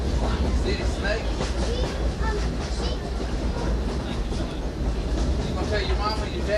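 Rolling steadily on the rails, a train gives off a continuous low rumble with faint rhythmic clacking, heard from inside the car, with voices murmuring in the background.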